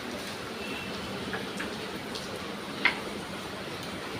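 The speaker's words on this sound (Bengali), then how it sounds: "এখন পর্যন্ত বৃষ্টি হচ্ছে।" Steady rain falls through a rainy day, a soft continuous hiss with occasional faint drips and ticks, moderately quiet and without voices.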